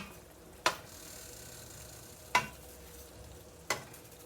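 Seasoned turnip greens with tomatoes being mixed and folded in a pot, three separate soft scraping strokes over a quiet low background.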